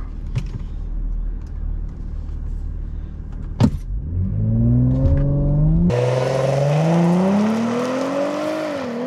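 A stock Audi S4 accelerates hard through a drag run, its engine note climbing steadily in pitch through the gears with a brief shift break, then a louder, rising whine and road roar near the end.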